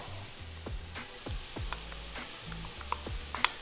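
Chopped fresh garlic hits a hot pan and sizzles with a steady hiss, punctuated by soft knocks and scrapes of stirring, close and without voices.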